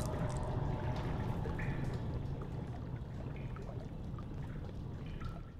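Rerouted water pours steadily in Amnesia: The Dark Descent, a continuous splashing rush with a few faint drips scattered across it.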